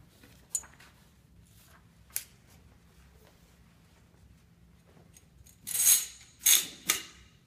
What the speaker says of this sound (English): You will then insert the action spring and buffer.